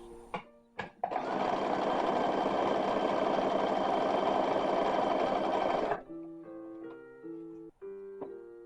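A sewing machine hems the sleeves of a dress copied from a 1920s–1930s original, one loud continuous stitching run of about five seconds, framed by short clicks and quieter handling sounds.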